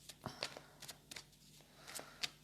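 Tarot cards shuffled by hand in a quiet room, a run of short papery riffles and flicks arriving in irregular bursts, close and fairly soft.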